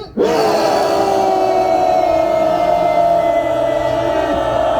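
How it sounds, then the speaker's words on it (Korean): A large rally crowd roars and shouts together in one sustained, loud cheer that holds steady for several seconds without letup. "우리 마음을 담아서 함성 1분 시작!"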